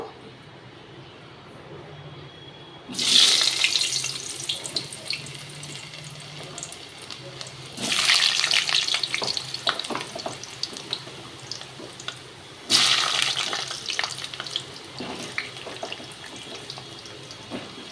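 Potatoes hit hot oil in a pan over a high gas flame, giving three loud bursts of sizzling, each fading into a steady crackle, with faint background noise between.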